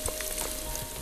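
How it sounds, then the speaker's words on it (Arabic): Chopped onion fries in cooking oil in a home kitchen, giving a steady close sizzle with soft crackling pops throughout, heard on its own without talk. "زيت قلي، وبدي أقلي البصلة."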